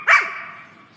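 A single sharp, close dog bark with a short ringing tail, heard on its own.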